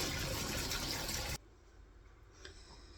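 Cold water pours from a tap into a pot holding cooked eggs, a loud rushing gush that stops abruptly, leaving quiet room tone with a faint clink.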